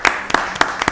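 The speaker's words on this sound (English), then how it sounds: "Y'all give her a round of applause on behalf of all the business people in Rockdale County." Audience applause at a county board of commissioners meeting in Rockdale County, a handful of sharp, loud hand claps spaced irregularly, close by, with no speech over them.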